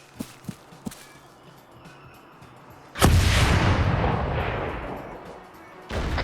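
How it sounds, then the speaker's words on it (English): A few soft clicks and footsteps, then a loud rocket launcher blast in the Halo game with a long rumbling decay, followed by another burst starting at the end. "Why does the rocket have drop? It's a Halo rocket launcher."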